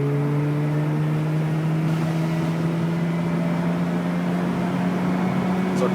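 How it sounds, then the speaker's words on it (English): A Mazda RX-8 with a misfire pulls slowly up to speed in second gear under light throttle, giving a steady, close engine drone with a rising tone and no distinct breaks. "In the second gear. We'll just slowly go up to speed."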